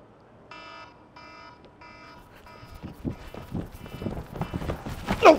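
An alarm clock rings in a video game, four evenly spaced beeping bursts, then a burst of rapid thudding footsteps that grows louder toward the end.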